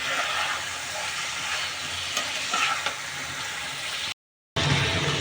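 Chicken pieces sautéing in a pan for a home-style chicken curry, a steady close sizzle with occasional stirring scrapes, continuous and fairly loud before a brief cut to silence near the end, then resuming.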